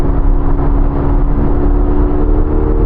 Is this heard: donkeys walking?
no